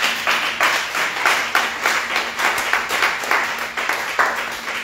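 A church congregation at a seminary service claps steadily together, a dense rhythmic round of applause with some voices lifting in cheers, loud and close throughout.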